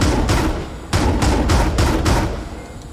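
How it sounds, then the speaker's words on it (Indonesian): A burst of rapid gunshots from a Valorant firefight on the Fracture map, several sharp cracks in quick succession over a steady din of battle noise. "kalian bisa tembak-tembakan sama musuh kalian di sini"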